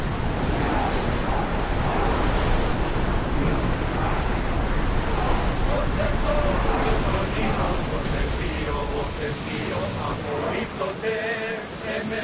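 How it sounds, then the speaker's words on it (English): Wind and waves surge steadily while sailing in a PS4 naval war game, a loud continuous wash of surf and gusting air with voices talking over it and tonal game sounds rising near the end. "Feel that wind!"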